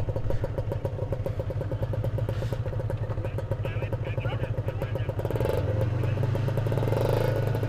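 A motorcycle engine idles with a rapid, steady putter close by, then revs up to a higher, louder drone near the end.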